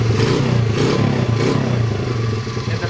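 A small Honda CRF50 dirt bike engine runs up close, its steady low throb swelling and easing through a few light revs for about three seconds with no talk.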